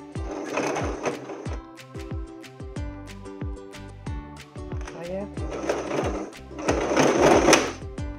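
A domestic sewing machine darns a hole in denim jeans, its needle thumping in rapid rhythmic bursts that speed up and slow down, with mechanical whirring throughout, close up.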